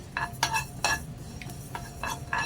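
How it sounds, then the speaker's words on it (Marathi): Sesame seeds dry-roasting in a very hot pan for garlic chutney, brisk rhythmic scraping and tapping of a spoon against the pan over a faint crackle, close with no talk. "तीळ मी भाजून घेतलेले आहे तरी पण थोडेसे भाजते आता"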